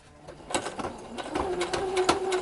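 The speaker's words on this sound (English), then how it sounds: "Raise the needle. Sure I'm not going to lose my thread. And then we just stitch." A sewing machine stitches a baseball jersey along the edge of the cording in steady, rapid bursts. The machine runs fairly close, with faint mechanical whirring between the stitching runs.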